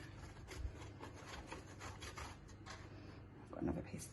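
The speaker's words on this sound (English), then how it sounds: "So just keep grating till all the cheese is gone." A block of cheese is grated by hand over a grater for an omelette, giving faint, quiet rasping scrapes in uneven strokes, close by, with some soft background rumble.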